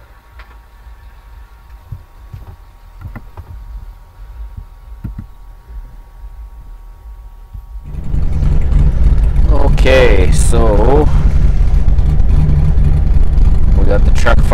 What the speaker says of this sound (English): we got the truck fired up again, as you can hear probably.